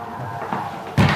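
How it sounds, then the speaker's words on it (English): A big wooden side door of a church opens with a low rumble, then lands with a heavy thud near the end, all heard up close over room noise. "It's a big wooden church door."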